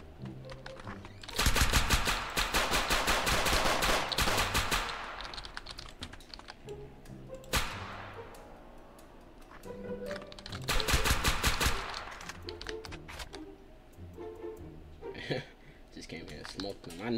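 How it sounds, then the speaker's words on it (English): Rapid bursts of video game gunfire crackle in two long volleys with a sharp single shot between, mixed under a man's chatter. "This game gun sounds are so different."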